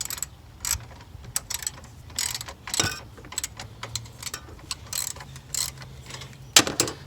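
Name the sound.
socket ratchet tightening Mitsubishi Lancer battery hold-down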